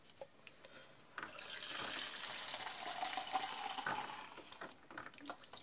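Water being poured into a homemade slime mixture, a soft steady gush and trickle of liquid that starts after a quiet moment and runs for several seconds, faint and close.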